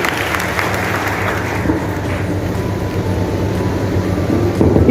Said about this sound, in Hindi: एक जोरदार तालियां सर के लिए